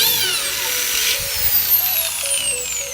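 A power drill whines with shifting pitch as it bites into a metal bash bar on a Nissan 350Z, close and loud, with brief pauses and changes in speed.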